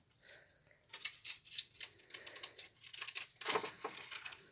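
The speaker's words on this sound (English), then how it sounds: "So sorry if you hear that crumpling sound." Irregular crinkling and crumpling bursts, like paper or plastic being handled, moderately close with sharp crackly peaks.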